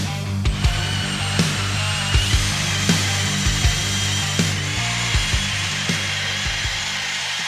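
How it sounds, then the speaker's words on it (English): A power drill bores holes in the steel frame of a Sears mud mower, its motor a steady loud whine with regular rhythmic knocks as the bit cuts. "I'm gonna drill these holes"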